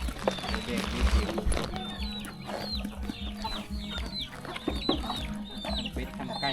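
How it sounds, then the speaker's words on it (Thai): Chickens on a farm with ducks, repeated clucks and short squawks scattered throughout, close and lively, heard under people talking. "ทั้งเป็ดทั้งไก่"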